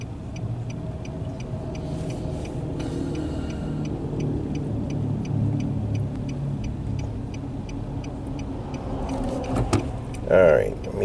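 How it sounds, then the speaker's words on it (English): A big truck rolls past on the road, a loud, close, broadband rumble building over several seconds, heard from a waiting car (a 2013 Nissan Sentra with a CVT transmission problem) with someone talking over it. "Got a big truck coming."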